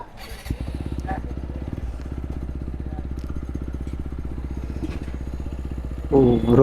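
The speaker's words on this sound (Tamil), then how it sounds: "ப்ரோவோட வண்டியை ஸ்டார்ட் பண்ணியாச்சுங்க. பயங்கரமாக இருக்குது." Motorcycle engine already running with a loud, steady exhaust rumble, close and continuous, with a sharper rev burst near the end.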